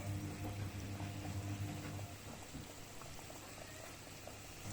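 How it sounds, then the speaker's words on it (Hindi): Samosas filled with potato and minced meat sizzle in hot oil, a quiet, steady crackling bubble heard close up, with a faint hum in the background. "इसमें तेल हो गया गरम। अब हम डालेंगे इसमें समोसे।"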